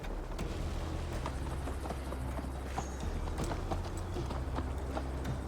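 Steady galloping horse hooves pound at a brisk, even rhythm during a long ride to Tamworth in Assassin's Creed Valhalla, with a low rumble of movement underneath and occasional clatter, moderately close and continuous throughout.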